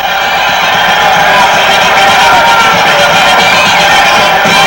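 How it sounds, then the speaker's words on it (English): A loud boxing arena crowd roars and cheers continuously as a fighter enters the ring, a dense wall of voices with occasional whoops rising above it. "the noise will begin to swell as he enters the ring and comes within sight of most of the crowd"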